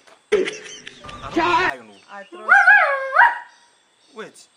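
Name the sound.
dog barking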